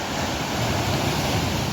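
Sea waves with a strong current at Pebble Beach, Goa, a dense continuous roar of surf, loud and close, steady with no pauses and no voices.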